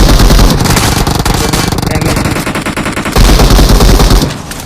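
Rapid automatic gunfire in the mobile battle-royale game PUBG Mobile, loud dense bursts nearly nonstop with a brief lull before another heavy volley, no clear talk.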